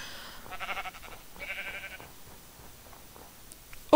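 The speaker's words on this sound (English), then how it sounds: "I just need one more, and then I'm done killing sheep." Sheep bleat in an RPG video game, two clear, wavering bleats in quick succession followed by quieter game sounds and a sharp click at the very end, with no talk.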